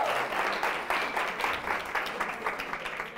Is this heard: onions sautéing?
no